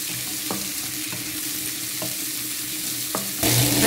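Zucchini and stir-fry vegetables stirred in a pan over high heat with a steady sizzle, scraped by a few brief utensil strokes, and the frying swells louder near the end.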